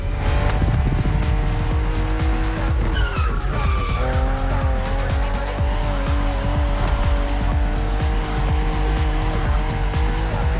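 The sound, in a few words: BMW CSL car driving in The Crew Motorfest video game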